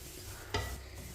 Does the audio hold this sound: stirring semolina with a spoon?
yes